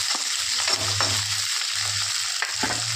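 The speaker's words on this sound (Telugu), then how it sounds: "వేగాక ఇందులోనే కొద్దిగా ఉల్లిపాయలు వేసుకుందాం" Onions and green chillies frying in a pan, a close, steady sizzle with a few stirring scrapes and soft clicks over the short stretch.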